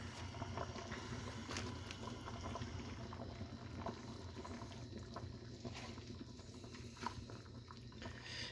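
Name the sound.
pot of corned beef, carrots, potatoes and cabbage boiling in Dutch oven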